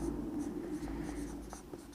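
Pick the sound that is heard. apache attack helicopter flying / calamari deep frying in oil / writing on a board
writing on a board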